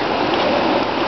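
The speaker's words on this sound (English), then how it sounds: "This trail is usually like bone dry, and it's more like a little stream right now." Floodwater after Hurricane Ike flowing like a stream along a woodland trail in Valparaiso, a steady, close, loud rush of running water with no break.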